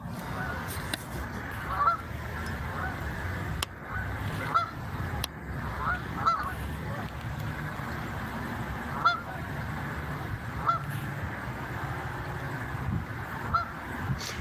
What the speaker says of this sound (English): They're not Canadian geese, they're just called Canada geese.